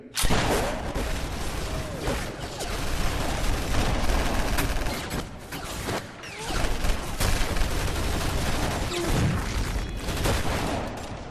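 Gunfire in a film scene, with dense, rapid overlapping shots and bursts of firing that run almost continuously, loud and close, with only brief dips in intensity.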